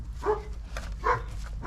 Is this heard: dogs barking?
yes